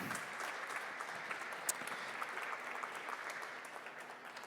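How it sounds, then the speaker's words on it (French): Steady applause from the audience at the Deeptech Tour Bordeaux 2021 talk, a dense, even wash of many hands clapping that stays fairly soft and distant for the whole stretch, with no voices over it. "Et on peut l'applaudir"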